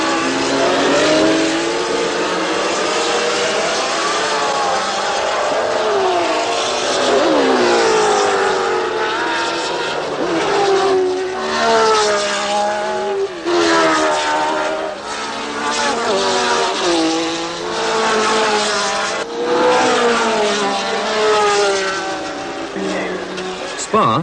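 Racing cars roar around the Spa-Francorchamps road circuit in the Belgian Ardennes, with loud engines rising and falling in pitch as they accelerate and pass one after another, beneath a commentator's narration.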